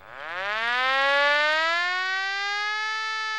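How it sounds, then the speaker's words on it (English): A hand-cranked air raid siren winds up from a low growl into a steady, loud, rising wail that holds near its peak, heard clearly and alone. "It's a hand-cranked air raid siren that alerted the soldiers on the war front to take cover when enemy planes were spotted."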